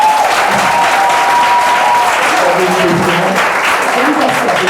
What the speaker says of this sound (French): c'est cette force de caractère-là que je voudrais qu'on applaudisse ce matin